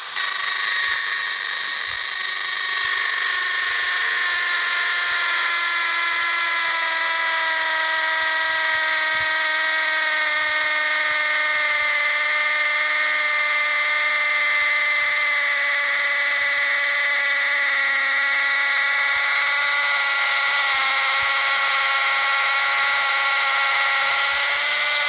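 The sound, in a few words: drill boring into oak tree for timber sampling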